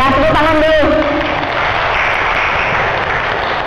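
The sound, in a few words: audience clapping hands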